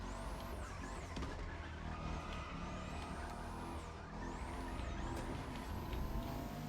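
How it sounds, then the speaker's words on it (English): A car drifting through a race in The Crew Motorfest, with dense, steady engine roar and rising, sweeping tire squeals layered over constant loud driving noise, no talk. "I was trying to drift here"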